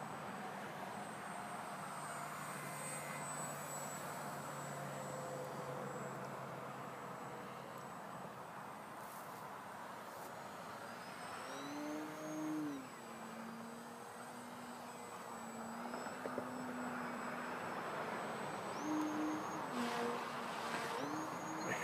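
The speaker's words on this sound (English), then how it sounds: "That's a good flying airplane." A Timber model airplane flies overhead, its small engine a steady distant drone that swells and dips in pitch as it passes and turns, continuous and faint throughout.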